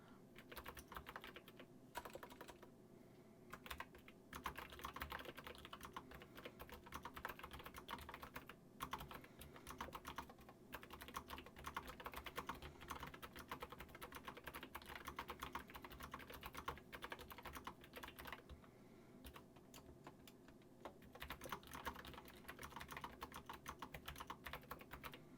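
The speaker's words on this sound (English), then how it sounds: "I'm just typing this out." Fingers type on a computer keyboard in a long, uneven run of quick key clicks with a few short pauses, close and quiet, with no voices.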